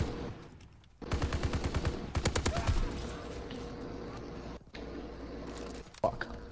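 Rapid submachine gun fire in the World War II shooter Call of Duty: WWII, quick bursts of shots with metallic clatter, loud and near, followed by ongoing game noise.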